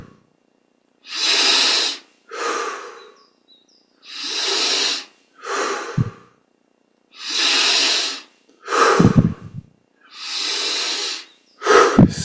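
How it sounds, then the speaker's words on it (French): Deep, slow breathing during a guided breathing exercise, long audible inhales and exhales alternating with quiet pauses, close and clear with no talking over it. "On augmente un petit peu l'amplitude des respirations."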